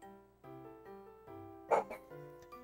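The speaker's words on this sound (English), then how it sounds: "That's my dog barking." A pet dog barking a few times at moderate distance, short sharp yips cutting in over a chiming, tonal music track from the Rudolph the Red-Nosed Reindeer game on the Nintendo DS.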